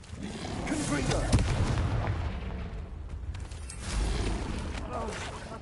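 Confringo fire-blast spells go off in Hogwarts Legacy as heavy booming bursts, one sharp near hit and a second surge later, with voices speaking over the blasts.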